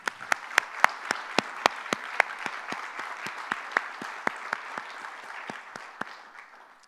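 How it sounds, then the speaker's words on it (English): Applause from an audience at an awards luncheon, a steady round of clapping with sharp individual claps standing out, fairly close and gradually thinning toward the end, with no voices over it. "Please join us in a round of applause for Ernie and Terry."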